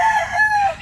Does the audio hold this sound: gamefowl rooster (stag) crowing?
yes